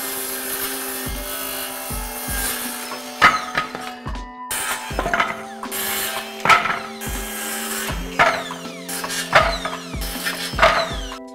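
Wood pieces being cut in a home workshop, a series of repeated short sawing bursts with a steady motor hum underneath, close and fairly loud, each cut separated by brief gaps.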